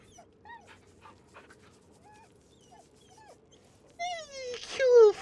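A dog in the video game Baldur's Gate whimpers and yips while being petted, a few short whines in a quiet scene followed by a louder burst of happy dog noises near the end.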